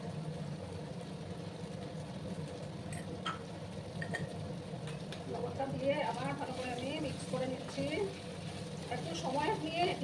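Arbi (taro) chips frying in a pan, a steady low sizzle with faint bubbling crackle that grows busier in the second half, heard under background noise.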